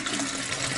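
Water rushes steadily into a newly installed toilet's drain trap during a bathroom fixture installation, a continuous close hiss and gurgle of filling water with no voices.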